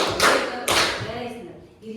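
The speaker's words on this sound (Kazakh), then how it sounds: "өзіңіз үш шапалақ істейікші" Seventh-grade students clap together during an open Kazakh language lesson in a classroom: two or three quick, broad, crisp claps in fast succession, mixed with a teacher's voice speaking.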